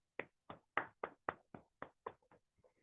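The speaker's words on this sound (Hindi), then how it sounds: "हमारे बीएसएस सिस्टम के लिए एक बार जोरदार तालियां होनी चाहिए" About nine separate hand claps land in a steady rhythm, followed by a few fainter taps. The claps are close and crisp with no talk over them.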